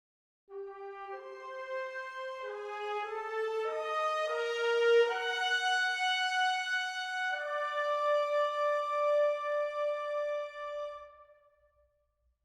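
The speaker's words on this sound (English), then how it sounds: "And we could also bring the flutes back down" Orchestra with trumpets, flutes brought down and violins an octave higher plays a slow phrase of sustained blended notes that step downward and settle on a long held chord before fading out.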